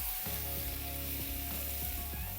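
Marinated boiled eggs fry with garlic in a hot pan for a garlic egg masala, giving a steady, loud sizzle with a few soft stirring knocks throughout and no voices.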